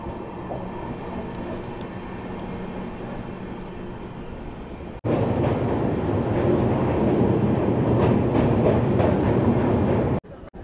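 The Sealdah–Jalpaiguri Road Humsafar Express runs on its inaugural journey, heard from onboard as a steady rumble that jumps louder halfway through, with rhythmic clickety-clack and rattling before cutting off near the end.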